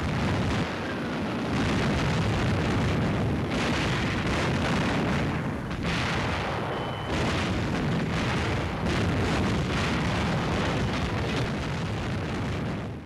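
Continuous heavy explosions and rumbling blasts from the 1944 Normandy landing in the Channel, loud and dense throughout with repeated booms over a constant roar, no voices.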